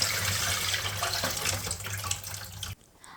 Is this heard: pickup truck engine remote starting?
no